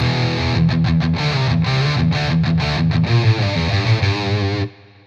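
Distorted electric guitar played through an IK Multimedia Tonex amp capture plugin, sustained chords and riffs with rich overdrive, loud and steady, ending as the notes fade out.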